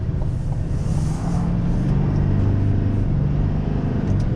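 A 2024 GMC Sierra AT4X AEV diesel pickup truck accelerates, its engine giving a steady low rumble from inside the cab with a gradual rise in tone.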